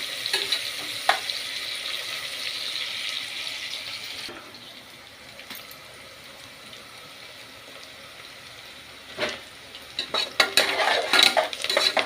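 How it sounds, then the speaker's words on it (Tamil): Onions sautéing in a pan for mint rice, a bright steady sizzle that drops away midway, then returns with clattering spoon stirs and scraping against the pan toward the end. "வெங்காயம் நல்லா வதங்கிக்கிட்டோம்."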